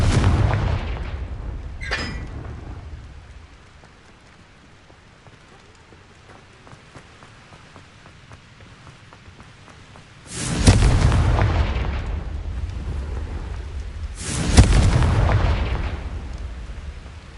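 Confringo fire-blast spells in the game Hogwarts Legacy, a sharp burst early on, then after a quiet stretch two heavy booming explosions with rumbling tails, loud and close, a voice shouting briefly.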